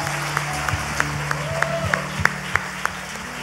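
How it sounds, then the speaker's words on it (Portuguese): A church congregation claps loudly and rhythmically, sharp evenly spaced claps over a steady sustained musical drone, with a brief voice in the mix. "Se for para Ele, pode aplaudir forte."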